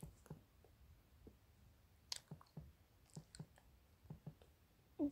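Faint, scattered clicks of computer keys being pressed, irregular and close, with short pauses between taps in an otherwise quiet room.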